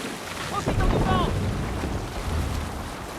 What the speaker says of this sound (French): La voile! Profitons du vent!